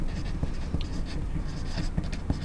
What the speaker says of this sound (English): flip your paper over, write your name.